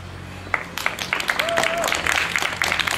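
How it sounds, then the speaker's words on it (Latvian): Applause from an audience at a Latvian language day reading in the Ādolfs Alunāns museum, a steady patter of many hands clapping for about three seconds with a faint whistle-like tone partway through. "Liela aplausa Sanijai."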